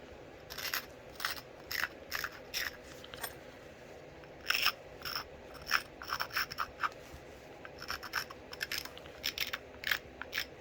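Stone scraping on a dacite flake as its edge is ground during knapping: a series of short, close, gritty rasping strokes with pauses between them, no talk.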